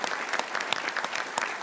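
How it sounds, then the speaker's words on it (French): Conference audience applauding at the end of a talk, with dense, even clapping from many hands sustained throughout. "je propose qu'on applaudisse une dernière fois."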